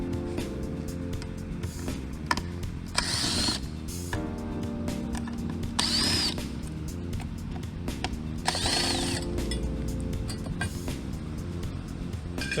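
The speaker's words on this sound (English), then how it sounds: "it's much easier with the impact gun" Impact gun spinning out screws from the grille of a 2016-2017 Mitsubishi Lancer, three short whirring bursts spaced a few seconds apart over a steady background hum, close by.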